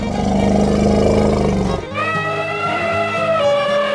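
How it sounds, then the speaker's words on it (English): A loud elephant call from a 3D animal sliding game: a dense, rough roar that gives way to a long, harmonic trumpeting wail, sustained with no talking. "Elephant."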